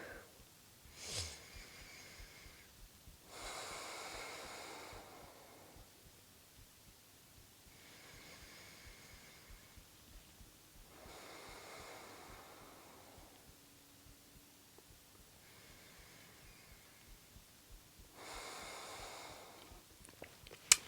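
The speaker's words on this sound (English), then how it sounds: "Three more deep breaths here on your own." Slow, deep breathing during a yoga session, about four long soft breaths spaced evenly a few seconds apart, faint and close with quiet room noise between them.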